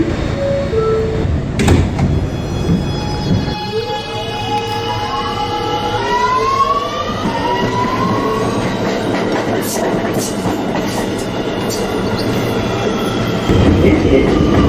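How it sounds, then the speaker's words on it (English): An R211 A express subway train at 175th Street closes its doors with a chime and thud, then departs with a rising motor whine and steady wheel rumble and clatter, close and loud. "Stand clear of the closing doors, please."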